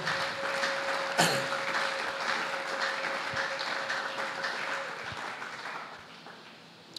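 A church congregation applauding at a French-language service, a steady wash of clapping that holds for several seconds before gradually fading, with a faint tone and scattered taps beneath.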